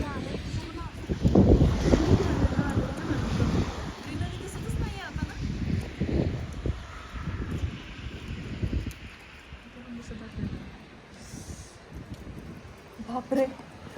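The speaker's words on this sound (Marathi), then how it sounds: "स्नोचं असं वादळ आलंय वादळ" Gusty snowstorm wind roars and buffets against the microphone, rising and falling, with a person talking over it.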